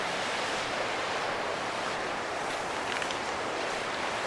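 Steady rushing water of a river running right beside a campsite at Sahom Valley, Kampar, Perak, a constant broadband roar with no pauses and no voices.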